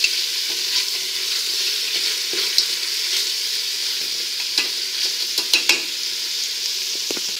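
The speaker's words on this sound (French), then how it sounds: "On va mélanger un petit peu, juste histoire qu'il dore un petit peu également." Pieces of rabbit browning in a hot pan, cooked with prunes, sizzle steadily and loudly while being stirred, with several sharp scraping clicks of the utensil.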